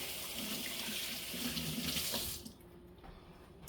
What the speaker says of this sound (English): I'll rinse my hand real quick.